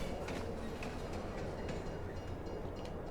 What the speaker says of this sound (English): All right, train's here, gang.